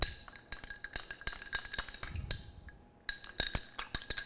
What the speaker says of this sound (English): We'll give it a quick stir.